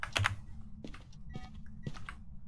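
Ghostly keyboard typing in the Phasmophobia horror game, a few short bursts of tapping keys over a steady low hum, fairly quiet and with no one talking.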